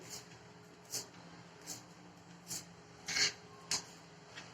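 Fresh green spring onions are sliced with a knife on a board, giving a series of separate crisp crunchy cuts at uneven intervals, quiet and close, without speech.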